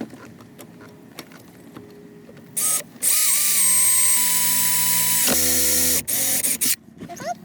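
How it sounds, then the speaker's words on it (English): A power drill whines loudly in sustained bursts drilling out a broken seat bolt on a Porsche 928, its pitch shifting as it bites and slows, with brief pauses between runs and faint handling noises before. "I'm going to probably end up doing is drilling out the bolt here and underneath here"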